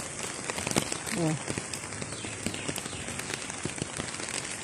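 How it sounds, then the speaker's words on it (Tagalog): Heavy rain pours over a street beside a canal in Singapore, a constant dense hiss of drops striking surfaces, with a brief exclaimed voice rising over it. "Lakas ng ulan."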